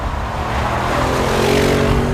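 A 2014 Audi RS7 sedan at high speed on a German road, heard as a loud, steady engine roar with strong wind and road noise that holds evenly throughout, the pitch climbing slightly toward the end.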